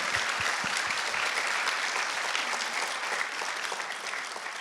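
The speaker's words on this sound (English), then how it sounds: "give them a big round of applause to recognize them" Audience applause at an inaugural youth policy forum, a dense, steady wash of many hands clapping that holds strong throughout and eases slightly at the end.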